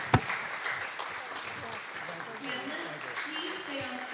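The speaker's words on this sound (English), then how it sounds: "Another round of applause for all the important work." An audience at a peace forum in Hong Kong applauds, a moderate, even patter of clapping heard under a faint murmur of voices, with one sharp knock near the start.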